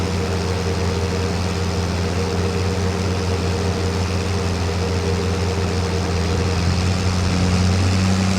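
Steady engine drone of a small International tractor in Farming Simulator 25, a continuous low rumble with a constant hum holding evenly at moderate loudness throughout, with no voices.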